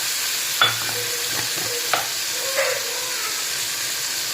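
Cubed paneer with a pinch of turmeric frying in a pan: a steady, even sizzle under a few distinct scrapes and taps of a spatula as it is stirred, close and moderately loud, with no speech.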